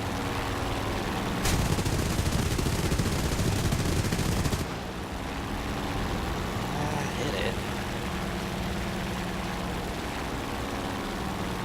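20mm aircraft cannon on a Nakajima J1N1 in War Thunder fires a rapid, loud burst for about three seconds and then stops abruptly, over a steady engine drone.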